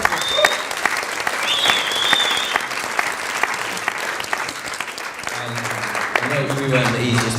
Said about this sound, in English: I just think we should all give her a round of applause